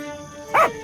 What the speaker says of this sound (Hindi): टोनी जोर जोर से भौंकने लगता है।